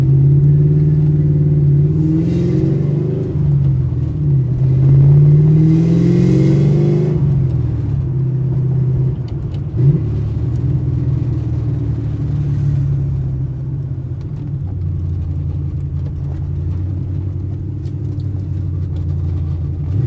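Loud, raspy 1998 Ford Mustang Cobra engine with no tailpipes idling and revving, muffler dumps open, a deep unmuffled rumble, a few throttle blips rising and falling over a steady drone.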